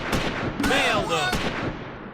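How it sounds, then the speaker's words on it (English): Battle gunfire in the wartime strategy game Close Combat 4, set in the Battle of the Bulge, with several loud sharp reports ringing out over a shouted voice and lingering echoes. "Firing dies down as the Americans run low on ammunition and on targets."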